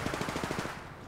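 Rapid automatic gunfire from the video game Apex Legends, a quick burst of about a dozen evenly spaced shots that trails off after under a second.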